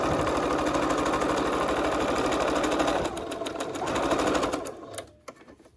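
A sewing machine runs a fast, steady back-and-forth return stitch to secure elastic on a fabric filter mask, whirring loudly for several seconds before slowing and stopping with a couple of small clicks.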